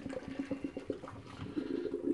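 Water from cooked Korean instant noodles for a spicy noodle challenge pouring through a kitchen strainer, a steady close splashing gush with an uneven rhythm and no talk.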